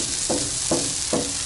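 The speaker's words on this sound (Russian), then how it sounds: "Кладем лук в раскаленную сковородку." Onion fries in a hot pan with oil, giving a steady close sizzle broken by three evenly spaced bursts of louder hissing.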